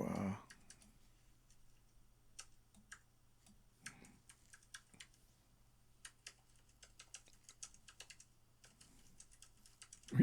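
Typing on a new computer keyboard, a dense run of quiet close key clicks in irregular bursts across the whole stretch, with faint talk in the background and a steady low hum underneath.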